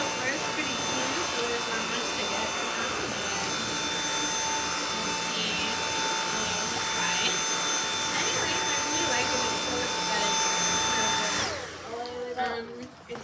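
A purple Dyson cordless vacuum cleaner runs with a steady high whine and airy roar, close and loud, holding constant before cutting off near the end.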